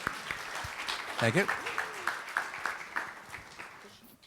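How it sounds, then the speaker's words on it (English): An audience claps for the family of a World War II Army veteran at a veterans' salute breakfast, a moderate wave of applause with a brief voice speaking over it before it fades. "So please give them a big round of applause."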